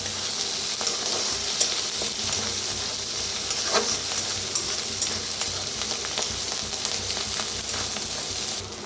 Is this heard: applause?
no